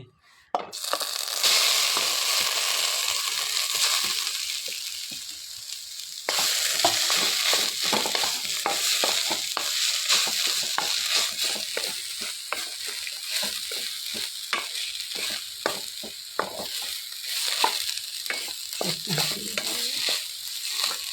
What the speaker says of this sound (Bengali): এখন আমি নারকেল পেস্টগুলি এখন দিয়ে দিব কড়াইয়ের